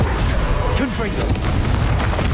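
A Confringo explosive spell blasts in Hogwarts Legacy, a short, loud, rumbling burst under a shouting voice in the middle of a busy spell-casting fight.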